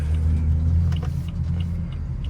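A BMW F30 335i with a Stage 2+ tune pulls hard from inside the car, its engine a loud, steady low rumble that builds briefly with road noise around it.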